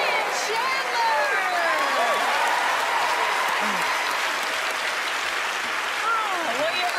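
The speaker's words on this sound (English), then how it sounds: "Oh, well, you earned that applause." Dense, sustained studio audience applause following a magic trick on a televised magic competition show, steady clapping with crowd noise throughout, some voices faintly mixed under it.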